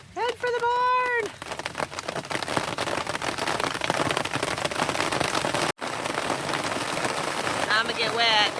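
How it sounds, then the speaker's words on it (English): Steady rain pattering on a surface on a homestead farm, dense and hissing throughout, with a voice shouting over it at the start and again near the end. "It's raining!"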